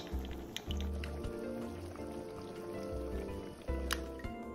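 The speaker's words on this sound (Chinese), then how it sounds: "在1小匙玉米淀粉内加入1大匙清水拌匀，最后再勾个芡，整体基本就完成了。" Cornstarch slurry is stirred into braised shiitake mushrooms in the pan, giving soft wet squishing and dripping sounds with a few bubbly gloops, faint and close.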